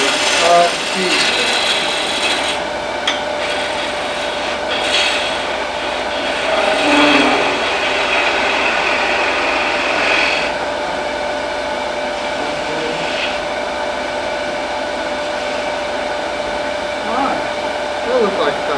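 A skew chisel cutting wood on a lathe while turning a Christmas ornament, producing a steady loud whirring hum with rasping, scraping cuts that rise and fall, close and continuous.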